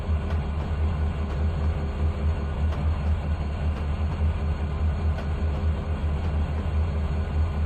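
A train passing in the railway simulator game Trainz 2019, a steady low rumble with faint periodic clicks of wheels over rail joints, constant and unbroken, no talking.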